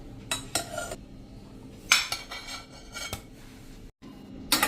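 Boiled potatoes are scooped out into a metal vessel with a utensil, producing a series of close, sharp metallic scrapes and clinks spaced irregularly over a quiet background.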